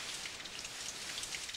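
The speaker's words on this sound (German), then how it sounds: "Ja, bei diesem Regen, antwortet das kleine Känguru." Steady rain falling as an audiobook sound effect, a soft, even patter of drops continuing throughout with no voices.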